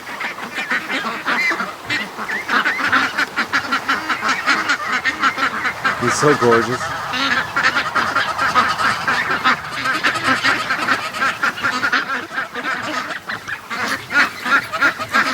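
A flock of young free-range geese, not yet full grown, honk and cackle continuously and loudly close by, a dense overlapping chorus with someone briefly speaking over it.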